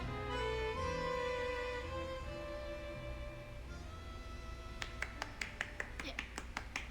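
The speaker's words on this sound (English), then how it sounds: "A lone clap breaks the silence." A single sharp clap rings out in the Reverse: 1999 game, following a sustained musical tone that fades, with a few crisp percussive snaps near the end; speech appears faintly.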